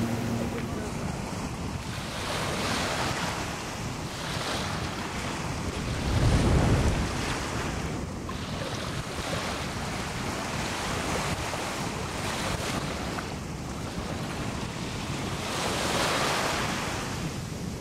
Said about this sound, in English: The waves are rough today for our landing on a beach